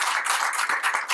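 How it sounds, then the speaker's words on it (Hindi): An audience at a Vedic yajna gathering claps loudly and briskly, a dense close burst of many hands with a few stronger accents, lasting about a second. "तो जोरदार ताली के साथ अपना समर्थन दीजिए"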